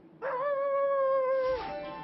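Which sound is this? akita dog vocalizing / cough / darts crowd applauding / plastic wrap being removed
akita dog vocalizing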